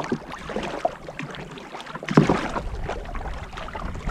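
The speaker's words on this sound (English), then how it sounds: "We have to paddle a long ways, almost against the wind. Oh, she is definitely getting a little choppy." Canoe paddling on choppy water at Waldo Lake, Oregon, heading into the wind; steady splashes and watery swishes sit over low wind rumble, with one louder splash partway through.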